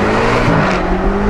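An Audi R8 V10 Plus engine drones loudly and steadily for a moment, a close, sustained roar with a slight rise in pitch.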